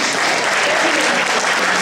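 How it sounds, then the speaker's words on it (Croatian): Concert audience at a tribute show applauds a trumpeter with loud, dense, sustained clapping from a large crowd, even and unbroken with no talk over it. "Pa molim vas, pozdravite trubača grbu velikim aplauzom."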